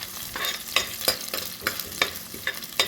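Small onions sizzle in a hot pan for a seer fish curry while a spoon stirs them in quick, regular scrapes, the crackling frying close and steady throughout.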